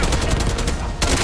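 Dense, loud gunfire in Black Ops 6 on Veteran difficulty, a rapid continuous fusillade of overlapping shots that barely pauses before resuming.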